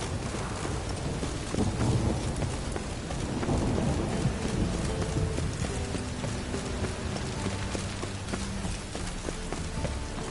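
Steady heavy rain with low rumbling thunder rolling underneath in the video game Witcher 3, dense and continuous throughout.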